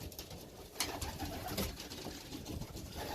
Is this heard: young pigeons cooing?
yes